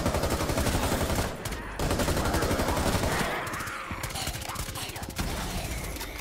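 Rapid automatic gunfire rattles out while zombies are shot in the video game Outbreak, dense bursts of loud, close shots with a brief pause midway, then continuing more unevenly.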